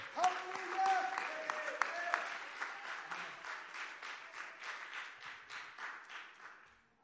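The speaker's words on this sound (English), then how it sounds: "would you clap your hands to the Lord?" A church congregation claps hands to the Lord in a steady, rhythmic beat that fades gradually, with voices and a sung or called tone over the start.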